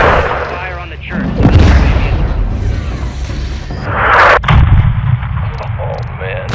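An AC-130 gunship fires on a church in a Modern Warfare 2 mission: heavy booming cannon rounds and deep rumbling impacts sound under radio chatter and talking voices.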